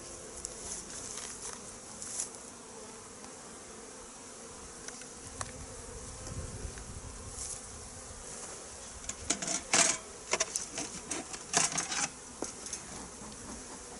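Honeybees hum around beehives being readied for overwintering, a low steady drone with scattered clicks and frame-handling knocks that grow busier toward the end.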